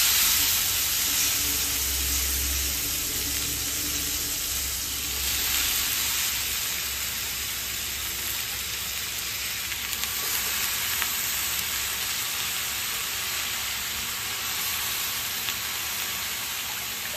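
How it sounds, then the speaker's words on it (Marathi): Jackfruit is stir-fried in a hot pan, giving a continuous, even sizzle with a soft hiss and occasional stirring noise, close and steady throughout. "परतून घ्यायची भाजी."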